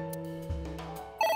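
A phone rings in the video game AI: The Somnium Files, a short electronic ringtone that swells loud and close near the end of the brief moment.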